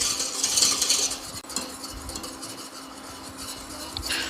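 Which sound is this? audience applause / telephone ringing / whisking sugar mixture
whisking sugar mixture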